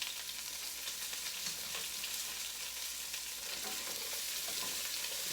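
Green beans fry in a pan with a constant crackling sizzle, broken by occasional scraping and clatter as they are stirred.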